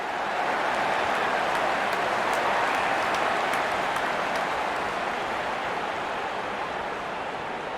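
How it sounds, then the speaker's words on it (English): Stadium crowd at an India versus Pakistan cricket match applauding and cheering a boundary four, a dense continuous roar of clapping with faint whistles, steady and enveloping throughout. "crowd is enjoying every bit of this action"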